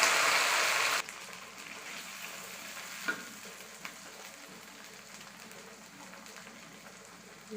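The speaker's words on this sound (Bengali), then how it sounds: "রসুন ভালোভাবে পরিষ্কার করে ভেজে নিলাম" Garlic for a garlic pickle fries in a pan, opening with a loud bright sizzle that drops sharply after a second to a faint, steady frying hiss with a couple of soft clicks.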